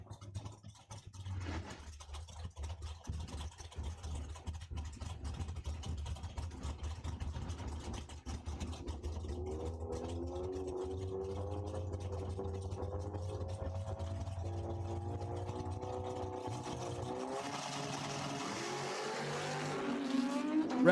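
Drag racing cars at a dragway launch in a pair down a quarter-mile strip: a low rumble builds into a loud engine roar, then rising high revs sweep upward near the end, with no voices.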